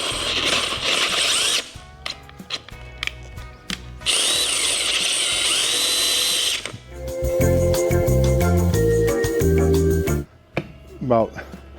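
A Forstner bit drilling by hand rather than in a press, in bursts of loud whining drill noise and grinding, separated by clicks, pauses and tonal motor hum; a voice talks in between.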